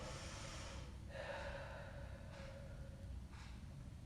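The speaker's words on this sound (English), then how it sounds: "Open mouth inhales and exhales just to release all of your heat here" Open-mouth exhales during a yoga session, three or four soft breathy rushes of air, close and faint, each about a second long with short pauses between.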